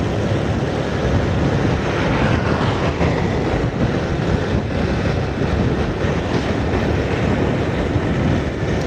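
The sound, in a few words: Honda Vario scooter riding at speed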